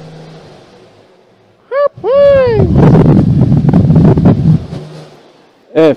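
Cummins turbo diesel engine in a pickup at an auction yard, blipped in short bursts: a deep, loud rumbling rev swelling for a few seconds between quieter idle, with a man exclaiming over it.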